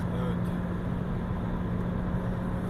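Steady interior drone of a 2005 Opel Vectra C accelerating in fourth gear, a constant engine and road hum with a faint tonal whine, close and unbroken, with no distinct gear change.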